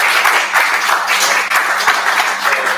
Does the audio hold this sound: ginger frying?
no